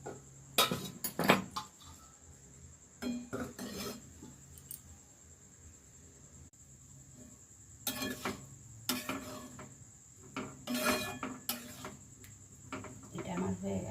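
A metal lid is set onto a cooking pot of aloo dom (potato curry) after water is added, giving faint, quiet clinks and clanks in scattered bursts over a low kitchen background.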